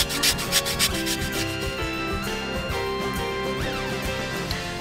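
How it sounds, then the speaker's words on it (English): Lime zest grated on a very small grater in an RV kitchen, a close, steady rasping scrape in quick repeated strokes, loud and continuous with no voices. "Isn't this the smallest grater you ever saw?"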